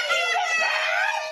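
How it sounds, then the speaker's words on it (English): Young children at a daycare center screaming in terror, a dense, sustained chorus of high shrill cries that stays loud throughout with no break. "Children screaming in terror at a daycare center as a grown-up wearing a scary mask yells in their faces."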